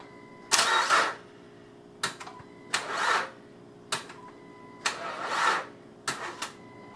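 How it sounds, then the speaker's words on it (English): A car engine cranks slowly and struggles to turn over while starting, repeated attempts in about six labored bursts separated by short pauses, close and fairly loud with no talking. "I heard it struggling to turn over, but it was turning over."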